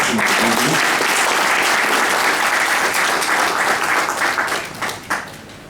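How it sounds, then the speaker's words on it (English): Loud, continuous audience applause fills the hall after a speech at a formal gathering, holding steady and then thinning into scattered claps near the end. "A better round of applause."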